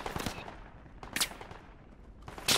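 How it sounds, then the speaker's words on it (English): Gunfire in Project Reality on the Saaremaa map: several sharp shots and short bursts, some near and loud, others more distant, with no talking over them. "We're taking fire, guys, from the east."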